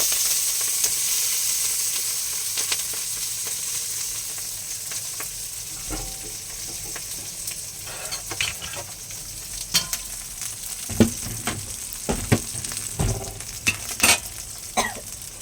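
Green chillies and a pinch of salt fry in a wok with a steady, close sizzle throughout, and the spatter grows into sharp crackles and pops toward the end, with no voices.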